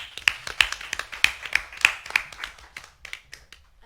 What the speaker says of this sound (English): Round of applause to welcome her into the space.